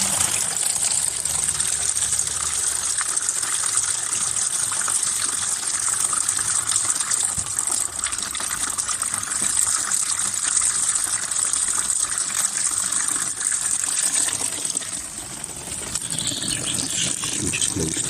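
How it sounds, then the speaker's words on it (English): Water pump filling rain barrel tanks in a DIY rain and well water setup, a steady loud rushing gush that runs on without a break, no voices. "I will switch on the water pump and we'll see if the switch closes."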